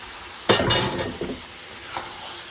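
Beef dropped into a hot oiled pan, a sharp clattering hiss on contact followed by scraping stirring and softer sizzling bursts, close and loud with no talk.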